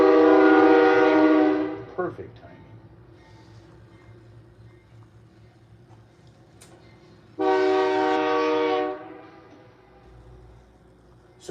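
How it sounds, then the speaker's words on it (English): A train horn sounds loud and close in two long, sustained harmonic blasts, one at the start and another after a quiet gap of several seconds, with low rumble beneath and a brief voice in between. "Hey, kids, that's called a train."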